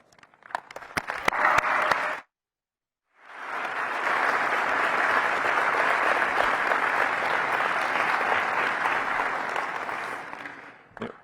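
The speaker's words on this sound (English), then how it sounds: "I'm going to ask if they would please stand up for a round of applause" Applause for staff at the annual meeting of the Washington DC Economic Partnership: a few scattered claps build into clapping, break off for a moment of silence, then return as a long, full, steady roar of audience applause that fades at the end.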